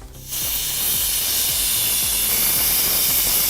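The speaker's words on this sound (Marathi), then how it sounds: "हा कुकर शिट्यावर शिट्या मारतोय" A pressure cooker whistles loudly, a sustained, forceful hiss of escaping steam that starts abruptly and keeps going, with low rhythmic rattling underneath.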